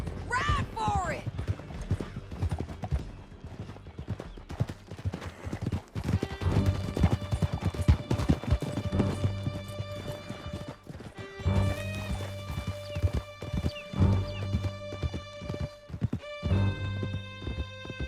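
Horses gallop in Red Dead Redemption 2, a steady drumming of hooves with whinnies and neighs, sustained musical tones and sharp crashes layered over it, and voices talking throughout.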